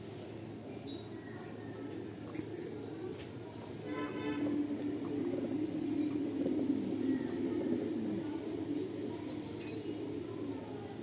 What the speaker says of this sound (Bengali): পায়রাগুলো দেখাই আমরা